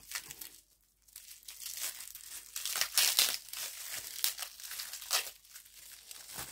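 Crinkly plastic craft packaging is crumpled and tugged at close range in bursts of loud crackling and tearing, with a brief quiet pause near the start and no talking.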